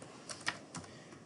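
Computer keyboard being typed on, a network path entered under Windows 10: a few soft, close key taps spread across about a second, faint over a steady background hiss.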